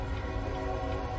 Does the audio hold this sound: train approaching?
yes